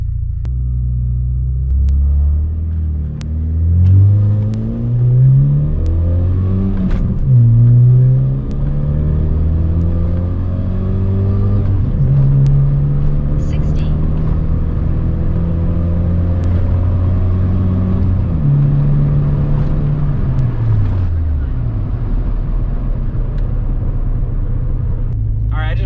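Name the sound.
car accelerating hard off the line on a quarter-mile run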